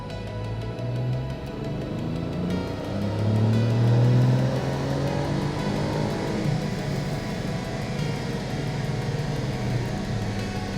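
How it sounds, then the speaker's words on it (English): A Ford Puma ST running a Stage 1 custom ECU tune drives on a dyno rolling road with a cooling fan on. The engine gives a steady, loud drone that swells briefly partway through, then holds level. "we can do that just by driving the car on the rolling road with the fan on"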